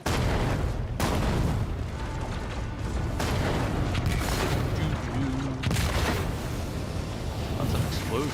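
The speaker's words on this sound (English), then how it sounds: "Lots of explosions happening." Explosions in the video game Warhammer 40k: Rogue Trader, loud repeated booming blasts over a dense rumbling din, with voices talking underneath.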